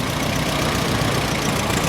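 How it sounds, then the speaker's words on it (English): A 1954 Nuffield M4 tractor with a petrol/TVO engine idling in the display ring at a steam fair, giving a loud, steady, close-up engine drone with no break. "This is a petrol TVO engine,"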